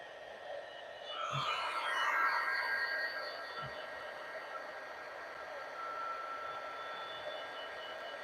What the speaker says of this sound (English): I'm going to heat it up with my embossing heat tool.